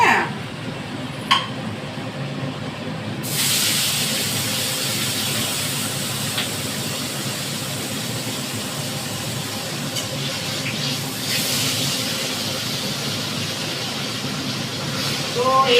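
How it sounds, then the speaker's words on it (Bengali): Foli fish frying in hot oil: a loud, steady broadband sizzle that swells after the first few seconds and continues without a break, with a faint clink near the start. "এই দেখো ভেজে ভেজে একটা একটা করে আমি তুলছি।"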